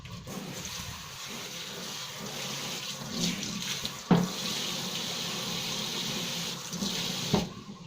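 Water sprays and patters steadily for several seconds onto a Phalaenopsis orchid seedling, with a couple of faint knocks partway through.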